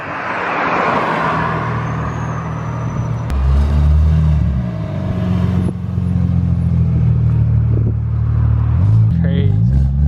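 A BMW E92 335i lowered on MTS Technik coilovers rolls past with a low engine rumble and tire noise that swells and fades, while people talk over it.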